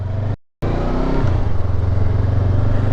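A Honda Hornet 500 motorcycle engine revs under twist-grip throttle, its loud steady drone climbing and settling after a brief cut-out, close and without talk.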